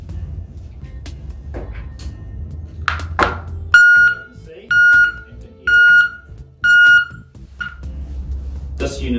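A reversing beeper with a blue flashing light sounds a series of evenly spaced, loud, high-pitched electronic beeps, about four in a row, after some clatter and handling noises.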